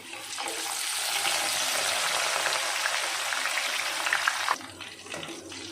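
Jackfruit peel frying in hot oil sizzles in a loud, dense, steady hiss that cuts off abruptly and leaves a quieter crackle.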